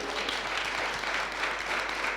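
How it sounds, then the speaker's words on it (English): A round of applause from an audience at an entrepreneurship talk, a dense, even patter of many hands held at a steady moderate level throughout. "that deserves a round of applause"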